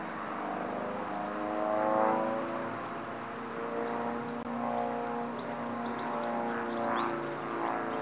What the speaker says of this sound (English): I'm being buzzed by an aeroplane.